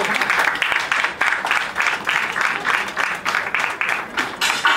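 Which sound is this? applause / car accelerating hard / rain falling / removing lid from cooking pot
applause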